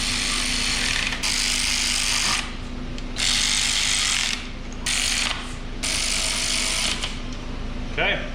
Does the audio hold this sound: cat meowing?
no